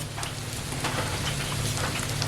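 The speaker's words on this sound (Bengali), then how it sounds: "রসুনটাকে ভালো করে ভেজে নেব" Garlic paste frying in a pan for a Bengali fish curry, a steady dense sizzle with crackling spatter running throughout, close and fairly loud, with no talk.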